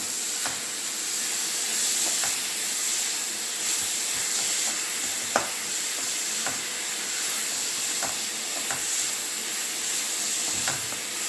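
Egg samosa filling sautés in a pan with a soft, even hiss of cooking, broken by a few sharp clicks of a spoon against the pan at irregular intervals.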